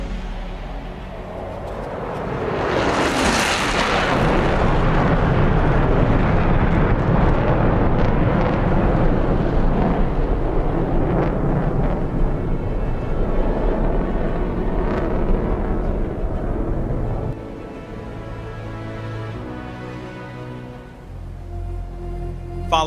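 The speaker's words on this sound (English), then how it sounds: "Bingo is going full afterburner for a high-speed pass" Jet aircraft at an air and sea show roaring past on full afterburner in a high-speed pass, a loud broadband rush that swells in from the left, peaks early and holds as a long sustained roar before easing.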